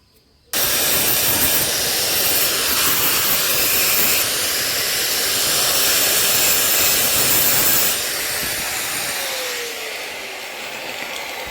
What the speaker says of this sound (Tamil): இப்போ அந்த ட்ரில் பண்ண இடத்த வந்து லைட்டாக கிரைண்டிங் பண்ணிக்கலாம்.